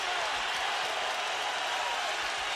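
A boxing arena crowd roars in a steady, dense wash of cheering and applause, loud and continuous with no clear breaks.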